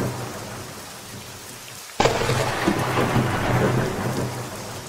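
Steady rainfall hissing on surfaces, then a sudden sharp thunderclap that rolls into a loud, sustained rumble under continuing rain.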